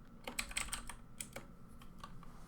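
A cat walks and sits on a computer keyboard, pressing keys in uneven bursts of close, crisp clicking and clacking over a quiet background.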